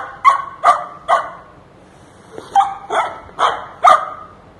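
A pet dog barks in two clusters, three sharp close barks then a pause before four more, loud and clear with nothing else over them.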